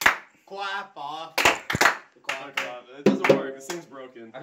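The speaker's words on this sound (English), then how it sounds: "It's a pause in between the claps." Sharp hand claps aimed at a clapper switch land in two quick pairs with a gap between them, mixed in among lively overlapping talk.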